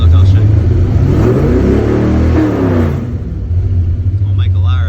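A car engine fitted with Holley Sniper fuel injection revs loudly and unevenly close by, the rpm rising and falling erratically before dropping toward idle.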